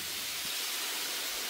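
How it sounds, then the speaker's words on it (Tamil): Brinjal pieces dropped into a hot pan of oil already seasoned with fenugreek and turmeric give a steady, even hiss of sizzling that runs through the whole short moment with no one talking. "இப்போ கத்திரிக்காயை போடுறோம்."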